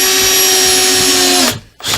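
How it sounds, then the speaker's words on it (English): A power drill drives screws into a wooden A-frame trestle, whining at a steady high pitch for about a second and a half, then stopping abruptly before a brief second burst, loud and close. "drive the screws in"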